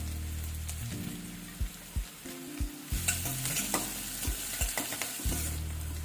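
Onions sizzle in a hot pan while a spoon scrapes and stirs in repeated strokes, with no one speaking.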